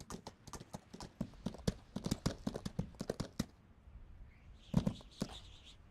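Horse hooves galloping in Skyrim, a rapid, loud run of clip-clop beats that stops partway, followed by a couple of softer scattered thuds.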